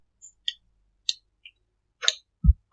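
Several light, close computer mouse clicks come at uneven intervals, crisp and brief, with a soft low knock near the end and no voices.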